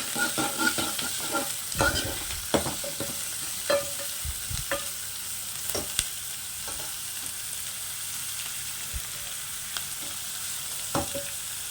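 Onions frying in a pan until light brown, a steady low sizzle broken by intermittent scrapes and clicks of stirring, close and moderately loud with no voices.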